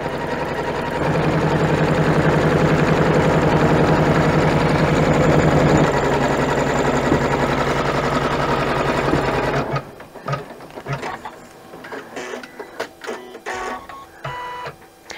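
An embroidery machine stitches out a zippered coin purse in the hoop, its fast steady needle whir running loud and continuous for about ten seconds before stopping, followed by light handling clicks and rustles.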